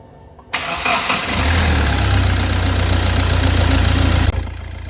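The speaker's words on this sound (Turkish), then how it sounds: "Şu anda motorumuzu çalıştıracağız." A car engine cranks and catches after a fresh oil change, then settles into a steady, loud, close idle that runs evenly for several seconds before a slight drop at the end.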